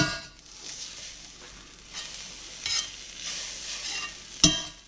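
Soft, steady sizzling and crackling of butter in a hot pan, fairly quiet, with a few louder pops and spatters near the end.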